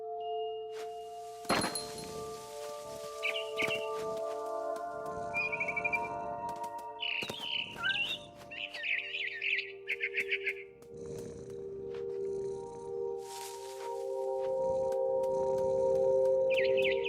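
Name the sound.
barn swallow chirping, from the video game What Remains of Edith Finch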